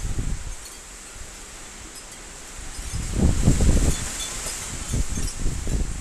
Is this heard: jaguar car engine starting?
no